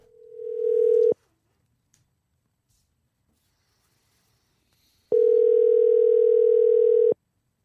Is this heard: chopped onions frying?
no